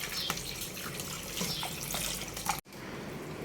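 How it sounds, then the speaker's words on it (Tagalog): Pig innards are rinsed under a running tap, with water splashing steadily into a sink, close and moderately quiet, broken by a brief cut before the flow continues. "Hugasan maigi."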